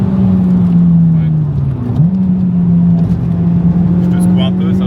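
A Honda Civic EP3 with a K20 engine revving in low gear, its strong, steady engine tone dipping and climbing again as VTEC engages, heard from inside the car while people talk.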